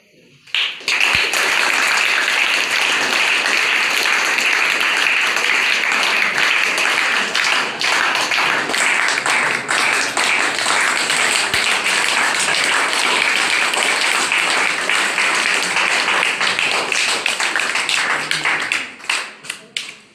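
Sustained, vigorous clapping from an audience at an academy gathering as a guest is garlanded, loud and continuous for about twenty seconds before tapering off at the end.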